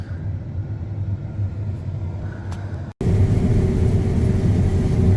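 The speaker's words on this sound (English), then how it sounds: "I will show you when this truck goes by up here" A potato truck passes on a road beside a farm field, a deep low rumble that holds steady, cuts out briefly, then returns louder and closer as the vehicle goes by.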